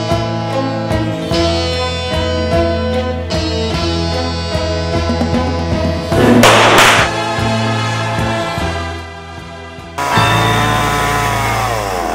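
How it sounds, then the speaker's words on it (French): A chainsaw carving wood drones steadily with rising and falling engine pitch, loud and close, with a burst of harsher cutting noise partway through. "vous êtes sculpteur sur bois, avec une particularité, la tronçonneuse"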